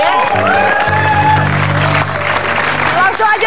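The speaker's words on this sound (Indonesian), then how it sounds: "kita kasih tepuk tangan dulu ya" Studio audience applause on an Indonesian television variety show, a steady wash of clapping under and between a host's announcing voice, fairly loud and close.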